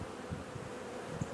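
Honeybees buzz faintly around beehive frames of worker brood, with a low, steady drone and a few closer passes.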